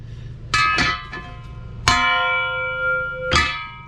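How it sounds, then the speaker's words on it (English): A hand bell rung outside in front of a house: three loud, ringing metallic strikes spaced more than a second apart, each with a bright, sustained tone that slowly decays, over a low background hum. "There's a man in front of my house ringing a bell."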